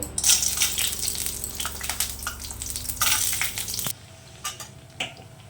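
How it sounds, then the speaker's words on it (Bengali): Lentil dumplings (bori) fry in hot oil for a wedding-style shukto, giving a loud, close, crackling sizzle that cuts off suddenly, leaving quieter scattered clinks and stirring. "এরপর আমি যে বড়িগুলো আছে সে বড়িগুলোকে আমি ফ্রাই করে নেব"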